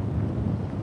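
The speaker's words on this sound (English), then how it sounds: "So it might be a bit windy now because I'm on full speed bar." Wind rushing over the microphone of a paraglider flying fast on full speed bar, a loud continuous low buffeting roar with no voices.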